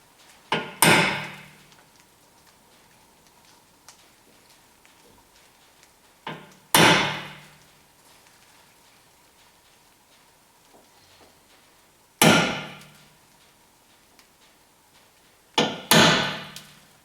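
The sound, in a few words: center punch struck with hammer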